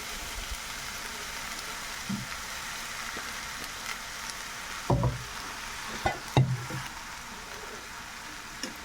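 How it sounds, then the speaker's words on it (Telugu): Cooked rice is stirred together with grated carrot and mango for mango pulihora, making soft, continuous close scraping and rustling, with a few sharper spoon knocks against the pan toward the end. "ఇదంతా ఒకసారి బాగా కలుపుకోవాలి"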